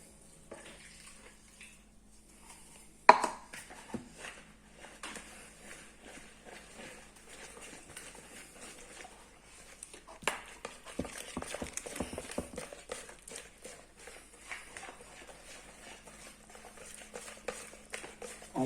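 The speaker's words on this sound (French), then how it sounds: "Continue à bien mélanger." Crêpe batter of milk, oil and water being mixed in a bowl gives faint, irregular sloshing and tapping, with a sharp knock early on and a busier patch of wet clatter in the middle.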